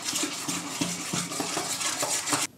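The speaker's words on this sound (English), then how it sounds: "just mix that together until there's no lumps of peanut butter" A spoon stirs applesauce and peanut butter together in a bowl, giving a steady run of soft scraping strokes and light clinks against the dish, close and fairly quiet, ending abruptly.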